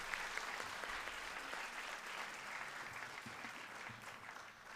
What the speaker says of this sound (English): Another round of applause for the girls,